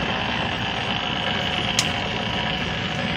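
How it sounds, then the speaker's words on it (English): A vintage Sunbeam stand mixer hums loudly and steadily up close, with one tiny click partway through the constant motor drone. "old classic mixer"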